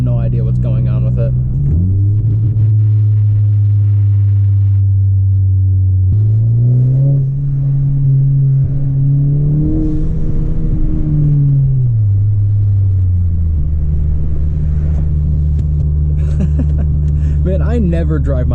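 A 10th-generation Honda Civic Si with a loud turbo and exhaust setup drones steadily while driving, its engine note rising and falling through gear changes, deep and continuous, close from inside the cabin.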